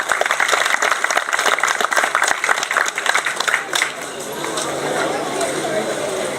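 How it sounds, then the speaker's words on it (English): A county fair audience at an outstanding senior ceremony claps, a dense patter of many hands that gradually thins and softens toward the end, heard alone with no speech. "Let's give a round of applause for Don Sayre."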